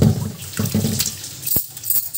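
Thick flattened rice (poha) rubbed and rinsed by hand under a running kitchen tap, a steady close splash of water with scattered wet rubbing sounds.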